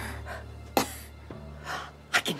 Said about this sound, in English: I can hear breathing.